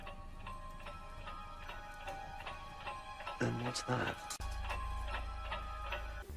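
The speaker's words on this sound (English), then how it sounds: "he can still hear it ticking" A clock ticks steadily in a regular rhythm in a scene from the Doctor Who episode The Girl in the Fireplace, with a voice speaking briefly over the ticking and a low rumble joining near the end.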